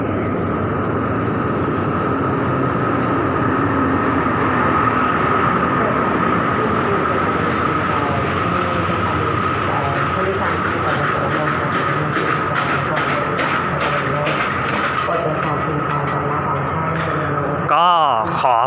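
Express train 111 runs through Chum Saeng station in Thailand, making a loud, steady rumble that carries on throughout, with rhythmic wheel clatter growing more distinct toward the end.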